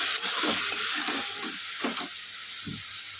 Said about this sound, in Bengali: ডিমের শাকটা দিয়ে হালকা নাড়াচাড়া করে আর ঢাকা দিয়ে দেবো